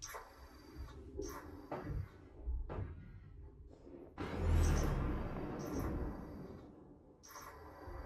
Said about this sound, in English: He should open the door for you.